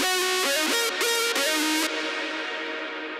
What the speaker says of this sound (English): the reverb is more like on the side and not like where the lead is playing